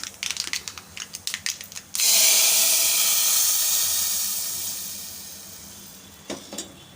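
Quick clattering taps give way to a loud, sudden burst of hissing sizzle as hot tempering oil is poured into a banana flower dish, slowly fading, followed by a couple of small clicks.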